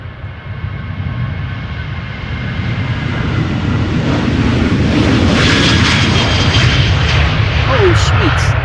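KLM jet airliner departing Schiphol Airport for Stockholm, a loud roaring engine rumble that swells steadily as the aircraft approaches and passes close by, with a faint voice underneath.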